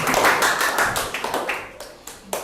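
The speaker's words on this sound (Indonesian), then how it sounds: "wah luar biasa, beri tepuk tangan." A classroom audience claps for a student group presentation, a short burst of applause that quickly thins into scattered individual claps and fades.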